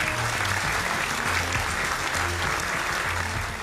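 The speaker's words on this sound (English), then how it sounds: "let's give Angela a big round of applause." Applause from the audience at a comedy game show, steady and full for a few seconds, with an even wash of clapping throughout.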